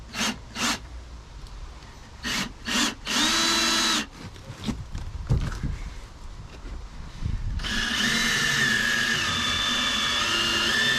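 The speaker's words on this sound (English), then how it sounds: "now that we've got our screw on the underside, we can go ahead and put our two screws on the top side" A power drill drives screws into a floor block during a soft-floor repair on an Aquasport boat, with several short whirring bursts followed by a longer sustained whine that runs steadily to the end.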